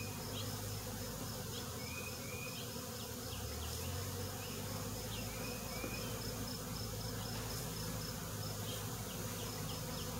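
Honeybees swarm around an opened hive, a dense, continuous buzzing drone with individual insects whining past at close range, steady and fairly quiet throughout with no voices.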